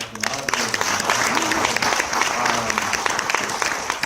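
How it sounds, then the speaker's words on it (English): At a film screening and Q&A for the 25th anniversary of Poetic Justice, an audience gives sustained, loud applause with dense clapping and some cheering, while voices talk underneath. "Let's give a round of applause for that."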